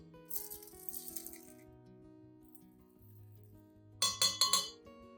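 Dry rice is poured into a clean glass, a bright rattling patter of grains near the start, then a sharp clinking rattle of several quick bursts toward the end, with no one speaking.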